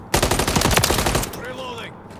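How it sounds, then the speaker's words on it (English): Rapid automatic gunfire rattles in Call of Duty Modern Warfare 3 on the Rust map, a loud dense burst of shots for about a second, then fading echoes and metallic tones. "I'm getting shot from so many directions."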